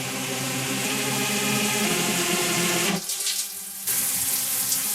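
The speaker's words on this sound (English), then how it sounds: "The gold brick is now cleaned of surface impurities with a pressurized stream of water" A pressurized stream of water sprays over a gold brick, a loud, steady rushing hiss that drops away for about a second before surging back at full strength.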